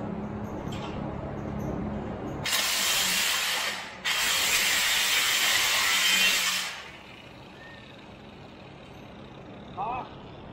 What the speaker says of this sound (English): let's see if we can do it with this regular grinder